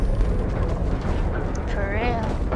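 Rumbling, continuous explosion noise from bombs going off during a Skyfire event in a video game, a dense low roar filling the clip with a faint voice-like tone over it.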